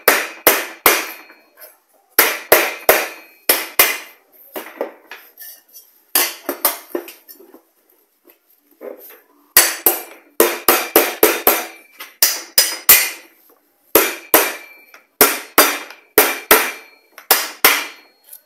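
Sharp metallic hammer blows join steel tubes of an industrial storage shelf, striking in quick clustered bursts separated by short pauses, loud and close with no talking.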